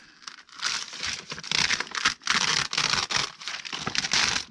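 A wax seal stamp slowly peeling off a surface, a dense crinkling, crackling tear-like sound in close, continuous bursts with brief pauses, no talking.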